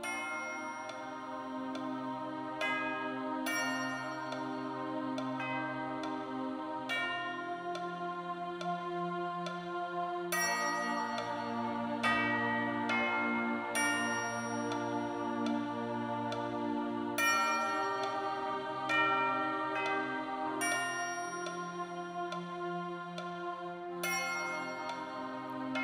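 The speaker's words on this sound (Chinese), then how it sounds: "钟声响了" A Shaolin temple bell is struck again and again at a steady, unhurried pace. Each stroke rings out brightly, then leaves a long, sustained hum underneath, loud and close for the whole stretch.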